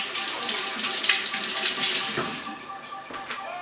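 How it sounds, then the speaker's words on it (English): Hands splashing and rubbing in sanitizer solution inside a plastic fermenting bucket during a home brewing session, a close continuous wash of sloshing water. "Wash my hands in the fermenting bucket."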